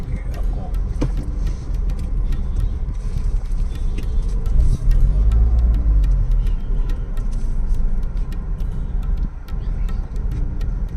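Private cars drive along a Delhi road during the G20 summit, a continuous low engine rumble with faint ticking and clicks, moderately loud and close.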